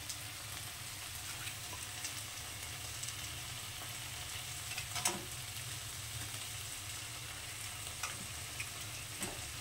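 Chopped tomato chunks fry in a hot pan with a steady, dense sizzle and crackle, close and continuous, with a few brief clinks of stirring and no speech.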